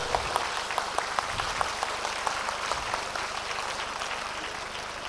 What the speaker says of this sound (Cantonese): 大家俾啲熱烈嘅掌聲歡迎朱慶祥師傅